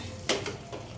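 A spoon scrapes and stirs a thick bottle gourd laddu mixture in a kadhai, with a soft, steady sizzle and a couple of brief scraping strokes close by.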